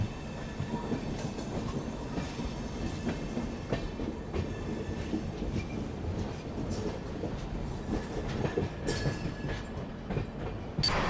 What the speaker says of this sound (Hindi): अभी ट्रेन ज़बरदस्त रफ्तार से भागने लगी है